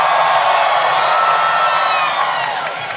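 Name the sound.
crowd cheering at armored MMA axe fight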